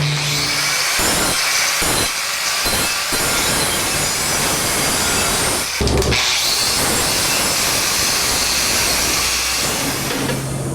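A 4.5-inch angle grinder fitted with a 40 grit wheel cuts a metal template held in a vise, giving a loud, continuous hissing grind with a few brief dips and bursts as the wheel bites.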